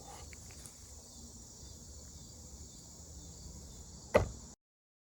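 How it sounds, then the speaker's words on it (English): Insects in a forest drone in a steady high-pitched buzz that holds constant throughout, with faint low rustling beneath and a sudden brief clatter near the end. "There are actually so many bugs around me."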